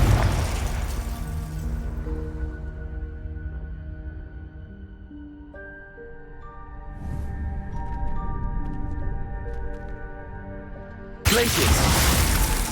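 A Confringo fire spell blasts in Hogwarts Legacy with a loud burst, then a wash of sustained musical tones and rumble, and a second bright, broadband blast near the end.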